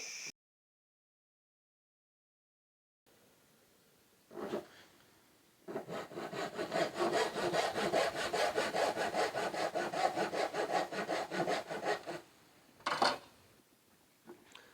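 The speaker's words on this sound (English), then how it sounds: "I'm keeping my saw to the left of the line, sawing up and down." A hand saw cuts a wood dovetail in steady up-and-down strokes, a rasping rhythm at close range, with a couple of isolated strokes before and after.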